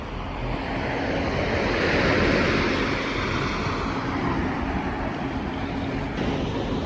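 Caribbean sea waves breaking on a black volcanic sand beach in St Vincent, a steady broadband wash of surf that swells midway and stays continuous and fairly close, with some wind across the microphone and no voices.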